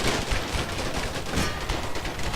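Dense musket volleys crackle without pause across an Empire Total War battlefield, a steady wash of overlapping gunfire with no voices over it.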